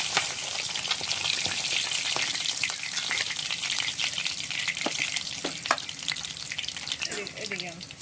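Tilapia pieces fry in oil with a continuous crackling sizzle and scattered sharp pops, moderately close and even, with light stirring noises near the end and no speech.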